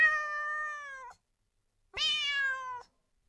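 Two clear, drawn-out AI-generated friendly cat meows separated by a brief silence, close and fairly loud.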